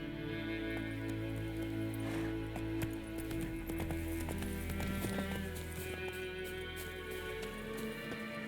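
Horse galloping in The Witcher 3 video game, a steady rapid clip-clop of hooves running continuously throughout over a dense backdrop of game music and ambience, with an occasional whinny.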